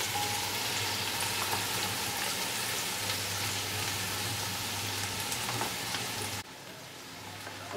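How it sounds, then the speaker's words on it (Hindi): Four to five medium onions fry steadily in a pan for chicken dhansak, giving a constant close sizzle and crackle that drops in level near the end. "थोड़ा ये ब्राउन होने तक थोड़ा सा इसको हम भूनेंगे"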